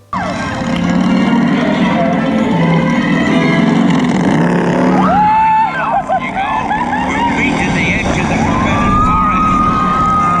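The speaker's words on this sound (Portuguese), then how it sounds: "em cada assento do trem tem alto-falante, então durante todo o percurso você vai ouvir os efeitos sonoros da moto" On Hagrid's motorbike roller coaster, a loud, continuous mix of roaring motorcycle sound effects, sweeping tones and music plays through seat speakers, with rising and falling whines throughout.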